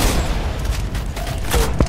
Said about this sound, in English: He's just shooting there